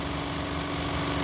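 An early steam railway engine runs with a steady, dense mechanical hiss and rumble, with a faint rhythmic low pulsing under it. The sound is moderately quiet and continuous, with no voices.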